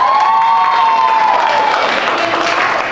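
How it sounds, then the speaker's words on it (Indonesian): A school class applauds and cheers at the end of a geography lesson, a brief burst of clapping and youthful voices with a whistle-like tone early on, close and fairly loud. "Tepuk tangan buat kalian."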